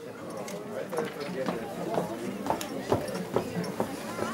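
Horses walking on firm ground at an award ceremony, hooves clip-clopping in an uneven rhythm of distinct knocks, close by, with people talking underneath.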